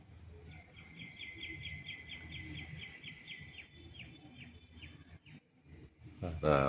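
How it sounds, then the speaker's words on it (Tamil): A squirrel gives a rapid run of high, repeated chirps for a few seconds, fairly faint against quiet outdoor background noise. "கேட்க ஆரம்பிச்சிச்சு ஃப்ரெண்ட்ஸ் அணில் சத்தம்"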